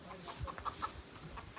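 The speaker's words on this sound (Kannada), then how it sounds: "ಬಡಕಲ್ ಅವ್ರು ಕೋಳಿ ಹಿಡಕತ್ತಾರೆ." Chickens cluck in short, soft bursts as they are caught, fairly faint and a little distant over low background noise, with no talking.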